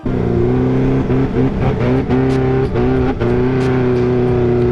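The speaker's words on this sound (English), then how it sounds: "I drove my old man's Desert Dynamics LS3 powered Corvette Sandrail" A Desert Dynamics LS3-powered Corvette sandrail on sand dunes throbs loudly up close with a deep V8 idle, punctuated by several short, sharp revs that rise and drop back.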